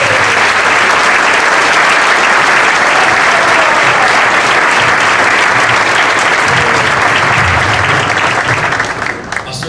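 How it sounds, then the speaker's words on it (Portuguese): A large congregation gives a long, loud round of applause to welcome a guest speaker, many hands clapping in a dense, continuous roar that tapers slightly at the end. "nós vamos receber então esses irmãos com uma salva de palmas"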